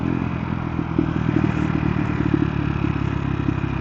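KTM Duke 390 motorcycle riding in fifth gear at low speed before dropping to third, a steady close engine drone with a rhythmic mid-range pulse and faint clatter throughout, no voices.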